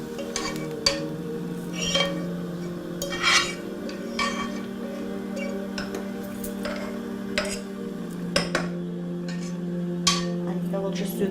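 A fork clinks and scrapes against a pot while stirring cooked rice, with steady metallic taps and light scraping repeating over a low background hum.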